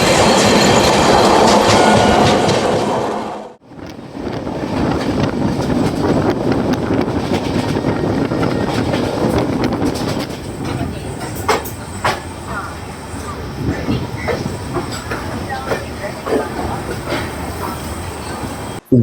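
The 13125 Sairang Express from Kolkata to Sairang runs with a loud, steady rumble and rhythmic clickety-clack of wheels over rail joints, heard from onboard with wind buffeting and a brief dip early on.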